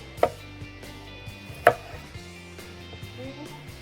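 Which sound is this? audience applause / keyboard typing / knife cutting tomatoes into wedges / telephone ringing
knife cutting tomatoes into wedges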